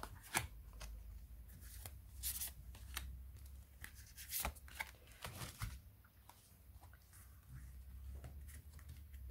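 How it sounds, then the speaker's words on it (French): Tarot cards are shuffled and drawn: soft riffling and rubbing of card stock in uneven bursts, close and faint, with light slaps as cards land and no talking. "Alors, je vais tirer 3 cartes pour voir pourquoi"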